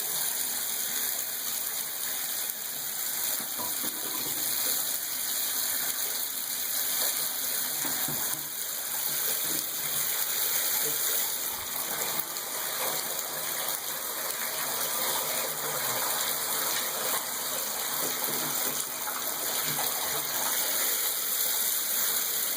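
Water running through a Kohler Rite-Temp shower valve on the cold setting, a constant gushing rush with a steady tonal hum, unbroken for over twenty seconds.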